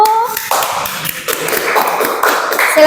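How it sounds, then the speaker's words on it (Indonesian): A classroom of students claps loudly and steadily for a student group, the dense applause filling the room with voices and chatter running underneath. "tepuk tangan buat kelompok"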